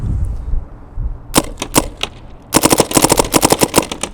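A Dye M3s paintball gun fires during an efficiency test as its air bottle runs low: a few sharp single shots, then a fast string of crisp pops, close and loud with no talking.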